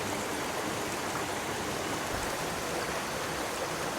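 The Bayang Sani waterfall's third tier in Pesisir Selatan roars as a steady, dense rush of falling water, close and unbroken, with no voices.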